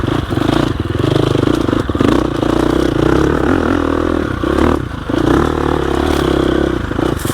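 Loud, continuous engine drone from a 2021 GasGas EX 350F dirt bike held in second gear over loose rocks, with rattling clatter and scraping mixed into the steady motor note.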